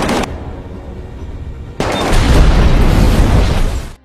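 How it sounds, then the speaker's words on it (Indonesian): In an action film, a sharp gunshot cracks out, then after a short pause a loud, dense volley of rapid gunfire rattles on for a couple of seconds. "sempat terjadi tembak-tembakan"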